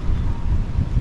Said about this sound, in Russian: Ну, ветрено.